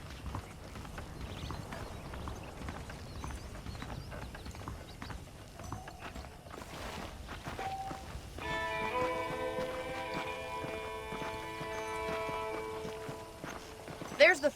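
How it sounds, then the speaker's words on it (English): Horses' hooves clip-clop at a steady walking rhythm in the Red Dead Redemption video game, moderately loud over ambient game sound, with a sustained tonal musical layer entering partway through. "The horses are saddled up over here."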